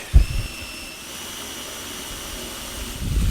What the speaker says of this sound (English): First thing I'm going to do is countersink.